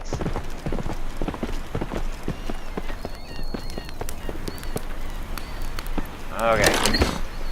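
Horse hooves clip-clop in an island survival video game, a steady run of sharp, evenly spaced beats heard close up, with a brief burst of other game noise near the end.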